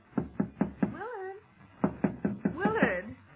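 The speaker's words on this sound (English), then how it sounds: "someone's knocking on your door" Four sharp raps on a door, a pause with a sung or drawn-out vocal phrase, then four more knocks, with voiced sounds rising between and after them.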